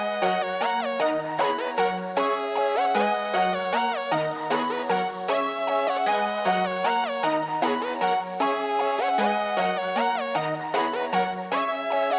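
Layered melodies are built in FL Studio for a beat, with a lead line and chords playing together. The synth tones are steady and bouncy, with a repeating pattern and clear gaps in the bass notes, and no drums are heard.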